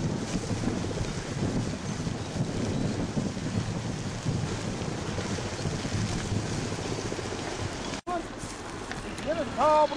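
Strong wind buffets the microphone in a continuous roaring rush during a large forest fire in Göynük, with faint shouting voices underneath and a brief dropout near the end.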